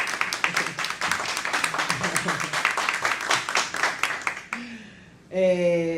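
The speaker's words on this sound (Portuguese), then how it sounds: "pode bater palmas." An audience claps for a guest being invited to join a panel at a talk on violence against women and girls: dense, steady applause that tapers off, followed by a brief tonal sound.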